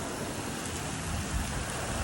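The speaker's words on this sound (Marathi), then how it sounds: "एकदम बेकार पाऊस आले" Heavy monsoon rain pours steadily on the road near Malshej Ghat, a dense, even hiss that fills the whole stretch without any voices.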